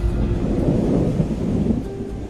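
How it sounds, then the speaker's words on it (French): Thunder from a storm breaking over the Florida Keys, a steady low rumble that rolls on throughout without a break, dense and continuous, with no voices over it. "un orage a éclaté sur l'archipel des Keys"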